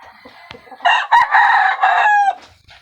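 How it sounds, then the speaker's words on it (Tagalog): Chickens call loudly nearby in several bursts, a drawn-out crowing cry mixed with shorter, sharper clucks. "pinatoka ako ng mga manok dito"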